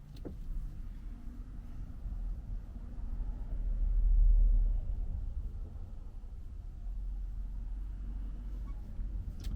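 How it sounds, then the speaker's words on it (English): A tree trimming truck fitted with a boom claw for brush and logs drives past. Its low engine rumble swells to a peak midway and then fades back to a steady background drone. "Not a bad little tree truck there."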